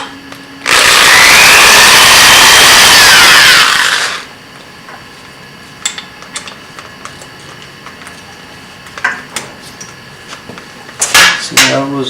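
A power drill bores out welded bushings on a Cub lower door with a 7/32 bit: one loud, steady grinding burst of about three seconds, close up, followed by quiet scattered clicks and handling noise.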